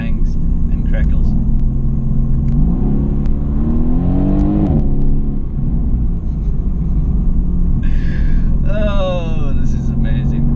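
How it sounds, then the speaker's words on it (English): A 2018 Mercedes-AMG GT S V8 engine roars and revs through upshifts and downshifts, with rising and falling pitch and sharp popping bursts and crackles from the exhaust near the end. "Upshifts, downshifts, pops, bangs and crackles."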